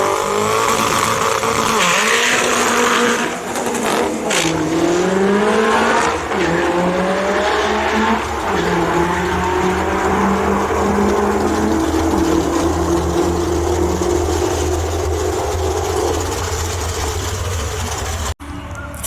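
A Nissan GT-R Nismo launching down a drag strip, loud engine climbing through rising pitch sweeps with gear changes, then holding a steady high roar that ends abruptly.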